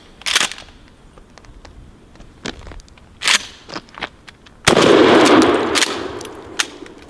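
A Mossberg 500 pump shotgun fires a few sharp, loud reports separated by pauses, with the clack of the pump action and a longer noisy burst late on.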